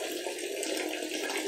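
Water streams steadily from a half-open tap fed through a V-Guard Iris instant water heater, making an even, close rushing hiss with no pauses.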